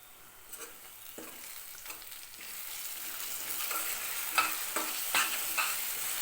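Masala bubbles and sizzles steadily in a covered pan, with scattered soft pops and clicks growing slightly louder toward the end.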